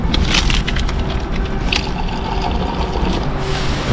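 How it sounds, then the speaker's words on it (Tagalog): Hot water pours for coffee outdoors on a very windy day, a loud continuous rushing fill masked by heavy wind noise, with a few brighter splashy bursts near the start. "Ngayon po ay kuha muna tayo ng mainit na tubig."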